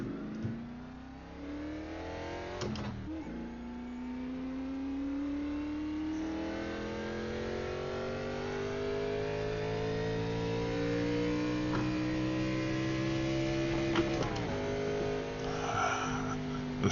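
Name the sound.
carbureted Gen 4 NASCAR Cup car engine revving, exhaust tone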